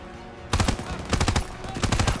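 Battlefield gunfire from Call of Duty WWII: after a quiet half-second, loud rapid bursts of automatic weapon fire crack in repeated volleys, close and dense, with brief gaps between strings of shots.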